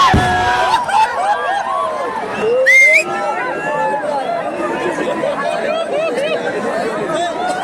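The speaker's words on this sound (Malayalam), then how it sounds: "കേട്ടില്ലേ ആരവങ്ങള്" A dense festival crowd at the Uthralikavu fireworks roars and chatters continuously, loud and close, with overlapping shouts and cheers and a brief swell near the middle.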